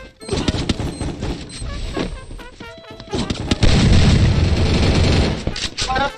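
In a video game shooter, loud bursts of gunfire and booming blasts from a grenade explosion pile up close and continuous, with voices talking over the fighting.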